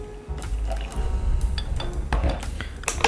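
Hot water poured into a gaiwan to warm it before brewing tea, with a close, uneven splash and trickle, some dripping and a few small clinks of ceramic.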